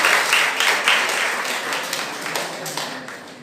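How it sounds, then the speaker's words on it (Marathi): An audience claps at a career guidance motivational lecture, a dense burst of applause that starts loud and slowly tapers over a few seconds, with no voices over it. "ओके, जोरदार टाळ्या त्यासाठी पण"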